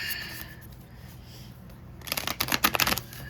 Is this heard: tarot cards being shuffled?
yes